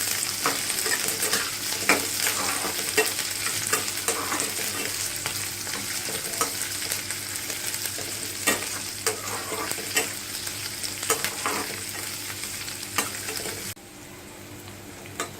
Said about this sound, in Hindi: इन सबको हम थोड़ा सा भून लेते हैं।